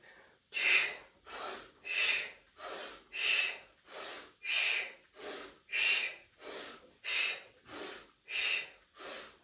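Diaphragmatic breathing exercise in a fat-burning workout: about a dozen strong, evenly paced breaths, each a loud rushing inhale-exhale through nose or mouth, close up and alone in a steady rhythm.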